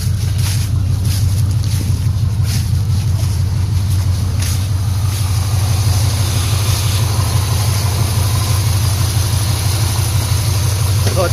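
A 1987 Dodge W150 truck with Summit Racing long-tube headers idles steadily with a deep, continuous low rumble, loud and near, with wind noise above it and no pauses across the stretch.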